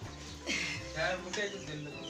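A chicken clucks a few times nearby, short throaty calls over faint background noise.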